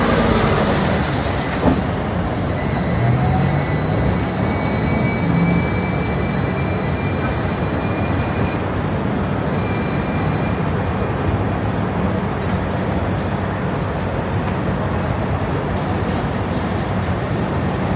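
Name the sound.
riding a Hong Kong tram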